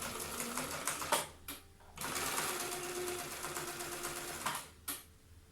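A sewing machine stitches along the fold edge of cotton fabric in quick, steady bursts, pausing twice between runs, close and fairly quiet.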